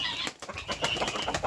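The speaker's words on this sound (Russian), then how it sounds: "И голуби вышли." Pigeons flap their wings in a backyard poultry yard at feeding time, a close, brisk fluttering with repeated wingbeat bursts over a steady background of farmyard noise.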